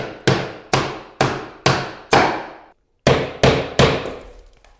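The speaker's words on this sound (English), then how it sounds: "This block works really nice for pounding your planks together." A wooden tapping block pounds laminate flooring planks together during installation, giving eight sharp, loud knocks in a steady rhythm with a brief pause before the last three.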